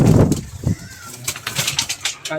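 Doves in a backyard pen cooing, a few low soft coos up close followed by scattered brief chirps and rustling.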